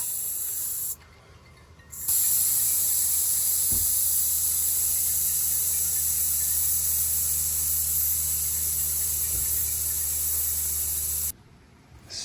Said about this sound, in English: let the air out with a screwdriver.